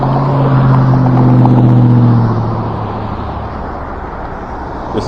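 Road traffic passing at an intersection, heard from an e-bike, with a loud rumbling car engine close by that fades after a couple of seconds into a steady traffic hum.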